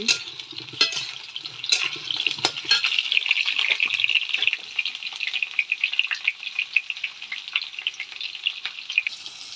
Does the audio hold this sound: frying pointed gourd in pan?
yes